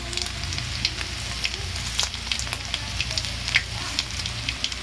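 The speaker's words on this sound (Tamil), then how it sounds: "பாருங்கள், கடுகு நல்லா பொடிஞ்சிருச்சு." Mustard seeds splutter in hot oil for an okra stir-fry, with dense, rapid crackling pops over a continuous sizzle, close and steady, with no voices.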